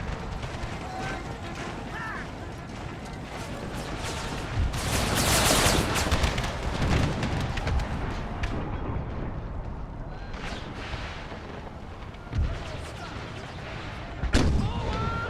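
Whitworth cannon fire against light horse artillery in a Gettysburg battle game, booming artillery and crackling gunfire rolling in bursts, with a loud heavy volley near the middle and sharp later blasts, under spoken commentary.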